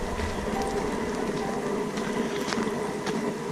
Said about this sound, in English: And no, it hasn't stopped raining.